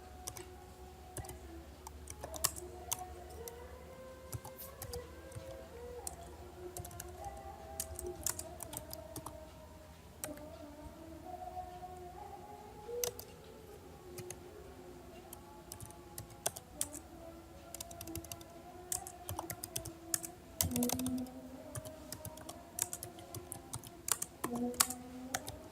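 Quiz question being typed on a computer keyboard, a steady run of quiet, close key taps and clicks with no talking.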